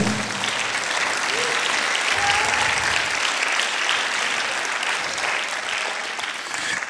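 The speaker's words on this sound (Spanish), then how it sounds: "Denle un aplauso fuerte al Señor." Applause fills a church as the congregation claps together for several seconds, a broad, sustained patter of many hands, slightly uneven, fading a little near the end.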